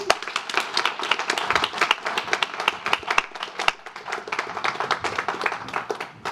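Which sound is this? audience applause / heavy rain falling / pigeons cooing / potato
audience applause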